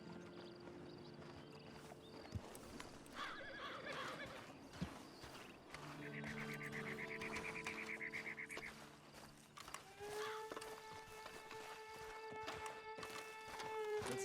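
Horse hooves clip-clop at a walk in the Red Dead Online video game, mid-distance, mixed under game music, with a horse whinny and other game sounds throughout.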